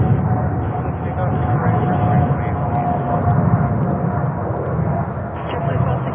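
Airliner taking off at JFK Airport in New York, a steady loud roar of jet engines with a low rumble that holds throughout, with a faint tone running through it.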